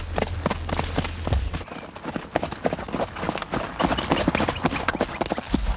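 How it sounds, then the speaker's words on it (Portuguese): Mule hooves clip-clopping in the smooth four-beat marcha gait, a steady rapid patter of footfalls close by on the ground, loud and continuous with no voices. "Já na marcha, o animal não perde o contato com o solo."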